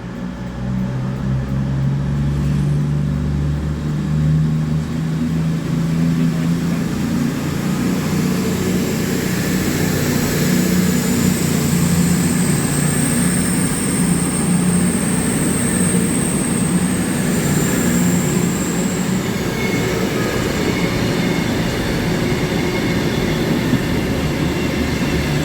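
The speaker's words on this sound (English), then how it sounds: "the 1115 CrossCountry service to Manchester Piccadilly" A CrossCountry passenger train runs through Reading station. A loud, steady rumble of wheels and a droning engine lasts throughout, with a high whine that rises and fades partway through, and no voices.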